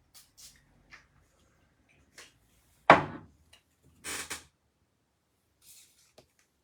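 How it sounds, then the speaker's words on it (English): Perfume from a patchouli discovery-set bottle sprays in a quiet room, a sharp hissing burst followed about a second later by another short spray, with soft handling clicks around them. "I'm going to spray from the bottle actually because I want to get a bigger whack of spray."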